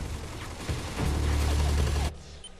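Sustained turret gunfire from the video game Infamous 2, a dense, loud burst of rapid shots that swells for about a second and cuts off abruptly, leaving quieter background ambience.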